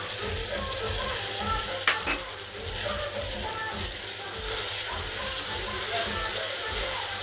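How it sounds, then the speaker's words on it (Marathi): Chopped tomato sizzles in frying red masala for a sprouted-legume curry, a continuous close hiss and crackle with a sharp splash of sound early on as the tomato hits the hot oil. "थोडा मसाला लाल झालेला आहे त्यात टाकूया कापून घेतलेला टमाटो"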